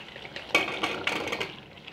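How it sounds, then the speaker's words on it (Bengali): Potatoes and jackfruit seeds are stirred into a spice paste in a pan for egg bhuna, a spatula scraping and clinking against the metal in several close strokes over a soft fry. "দিয়ে দিলাম কাঁঠাল বেশি আর আলুটা, ভালো করে কিছু সময় নিয়ে কষিয়ে নেব।"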